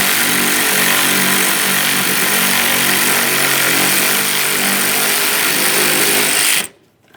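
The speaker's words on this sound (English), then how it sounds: "we're going to remove our two 8mm headed mounting bolts" A power tool runs steadily and loudly, close by, while removing 8mm mounting bolts near the bumper and fender of a 2013–2020 Ford Fusion, then cuts off abruptly near the end.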